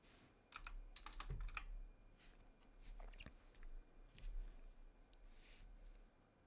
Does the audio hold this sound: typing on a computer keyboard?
yes